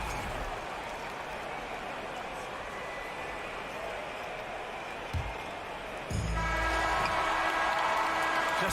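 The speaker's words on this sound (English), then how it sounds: "Please give a big round of applause for your Cavaliers Houston." Arena crowd in a basketball video game keeps up a steady roar of applause and cheering, swelling louder in the final seconds.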